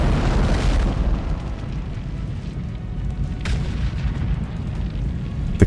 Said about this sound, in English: the strike successfully hits the target. A large explosion follows.